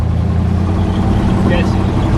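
1973 K5 Jimmy engine accelerating hard, a loud steady low roar filling the cabin from the first moment to the last, with a person's voice faintly mixed in.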